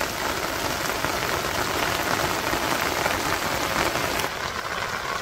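Steady rain pours down beside a village canal, a dense continuous hiss of drops drumming on surfaces, loud and unbroken throughout with no voices.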